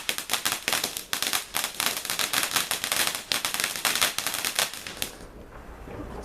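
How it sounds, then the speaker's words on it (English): Ground-level fireworks on Bonfire Night, a fast crackling barrage of sharp pops and bangs for about five seconds before cutting off into quiet background noise. "I'm very much for the ground level fireworks."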